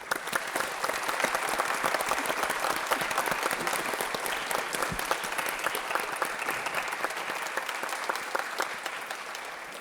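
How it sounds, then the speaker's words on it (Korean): An audience at a regional cultural autonomy forum claps to welcome Damyang county governor Choi Hyung-sik, a sustained, even wash of applause from a large crowd. "최형식 담양 군수님 박수로 맞아주시기 바랍니다"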